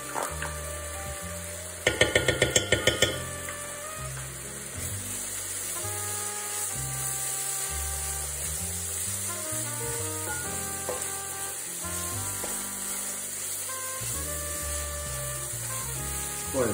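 Tomato paste roasting in a pan alongside seared meat gives a steady sizzle, with a quick burst of clattering scrapes early on, then continuous frying under a tonal background.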